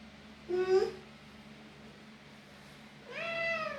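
A Persian cat meows twice during clipping, a short rising meow followed by a longer drawn-out one after a pause, close and fairly quiet over a low background hum.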